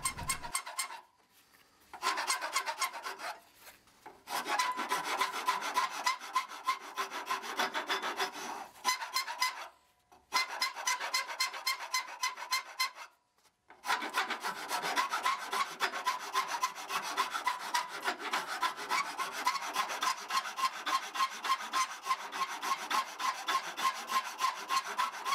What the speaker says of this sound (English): Now I can start to refine the shape with a round file.